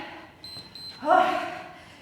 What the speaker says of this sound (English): Wait for that beep.